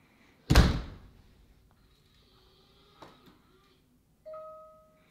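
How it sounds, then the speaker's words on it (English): A door shuts with a loud thud, followed by a brief mechanical click of a smart lock engaging about a second later and a short motorized whir as the bolt throws, all in a quiet indoor room. "let's set the 1 second auto lock"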